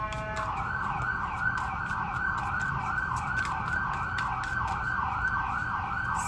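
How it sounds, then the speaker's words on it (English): Emergency vehicle sirens outside, a steady wailing tone that cycles up and down continuously over a low traffic rumble, moderately distant and heard alone with no talk. "Sorry about the sirens"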